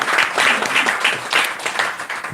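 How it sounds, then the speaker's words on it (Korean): A church congregation at a Sunday service claps in welcome, a dense, lively burst of many hands that holds steady and close before starting to thin toward the end. "우리 두 분 향해서 우리 환영의 박수 한번 부탁드리겠습니다."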